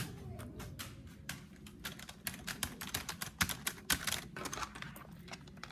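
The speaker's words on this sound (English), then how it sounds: "This is a keyboard." Rapid, uneven keystrokes on a computer keyboard, clicking close and fairly quiet in bursts with short pauses, no voices.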